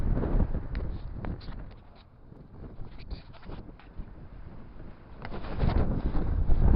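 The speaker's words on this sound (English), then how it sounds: "So those wind gusts are crazy." Blustery wind buffets the microphone in rough gusts, swelling strongly at the start and again near the end, with a quieter lull in between.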